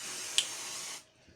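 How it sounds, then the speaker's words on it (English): 505 basting spray released from an aerosol can onto a small quilted pot holder, a steady close hiss lasting about a second with a brief sputter partway through, then cutting off into quiet. "a little bit of 505 spray"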